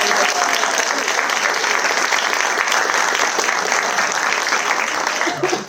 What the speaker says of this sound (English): a very quick applause for those lovely people